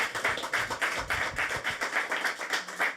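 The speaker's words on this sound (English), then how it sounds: "So a big round of applause to all the men in the room who made it happen." An audience applauds steadily in a conference hall, a dense wash of many hands clapping with a regular pulsing swell throughout.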